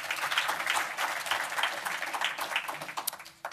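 Moderate audience applause at a Power-Con 2018 Masters of the Universe panel, a steady patter of many hands clapping that thins out toward the end.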